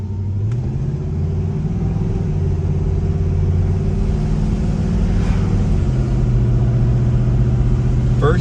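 A 1970 Pontiac GTO pulls away with a steady, loud low engine rumble that rises and shifts as the driver revs it, staying close and continuous throughout.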